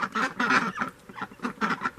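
Ducks near chickens in an outdoor winter farmyard give rapid, nasal quacks in several short bursts, fairly close and loud, with no one speaking.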